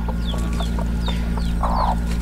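Brooding hens cluck in short bursts over a steady low hum, with a louder, rougher cluck near the end.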